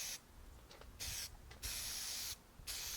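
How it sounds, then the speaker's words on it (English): An aerosol can hissing in three long steady bursts against the back of a Ford Probe headliner, close and loud, with short pauses between sprays. "spray the back of the liner also."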